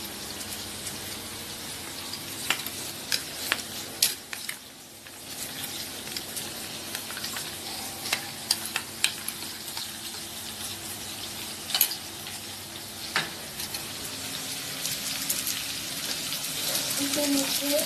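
Chicken curry paste with a little water added frying in a pan as it browns, a continuous sizzle and bubbling broken by scattered scraping clicks of stirring, fairly close and with no talking in this stretch.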